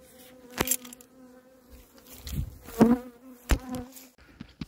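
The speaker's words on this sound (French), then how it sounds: "J'ai l'impression que les abeilles m'ont suivi un petit peu longtemps," Honeybees buzzing around an open hive during hive preparation, a steady insect hum with sharp clicks and knocks from handling the frames nearby, no talk.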